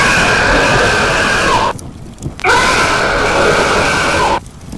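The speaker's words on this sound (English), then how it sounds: "The screams of the nun are heard for the last time." A burning nun's screams in the video game Nun Massacre: two long, loud, harsh shrieks, each lasting a couple of seconds with a short gasping pause between, set over crackling background noise.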